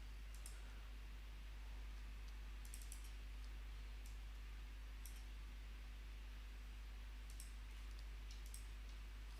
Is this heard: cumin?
no